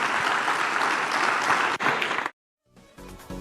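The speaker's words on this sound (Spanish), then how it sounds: "Denle un fuerte aplauso al Señor." Strong, sustained applause from a church congregation after a sermon, dense and loud for about two seconds before cutting to silence and a faint musical tail.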